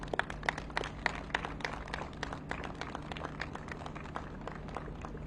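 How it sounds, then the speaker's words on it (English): Applause for the crew of the Coast Guard cutter Hamilton at an outdoor cocaine offload press event, a quiet, distant patter of many hands clapping steadily, with a constant low hum beneath. "How about a round of applause for the ship, the Hamilton, and the efforts that they did over the last 2 months."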